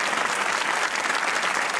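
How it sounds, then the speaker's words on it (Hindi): Dense, steady applause from a television comedy talk show studio audience, loud and continuous throughout with no pauses. "इनके लिए एक बार भरपूर तालियां होनी चाहिए"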